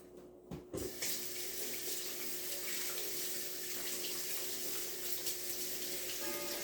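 A kitchen faucet runs steadily while gloved hands are washed under it at the sink, a close, continuous splash of water that starts abruptly and carries on alone without speech.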